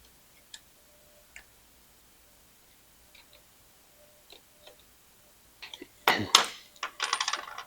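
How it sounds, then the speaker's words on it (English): Ratchet wrench tightening down motorcycle backrest forward extender plates, a few quiet sparse clicks at first, then a louder burst of rapid metallic ratcheting near the end. "grab your wrench and tighten these down"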